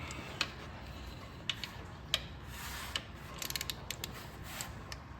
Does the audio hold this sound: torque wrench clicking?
yes